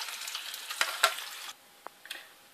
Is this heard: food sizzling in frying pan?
yes